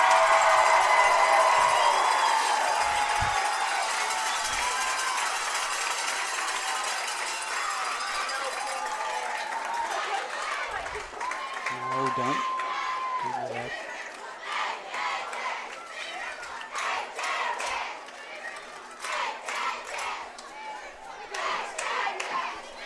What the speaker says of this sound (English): Fans, give these boys a big round of applause.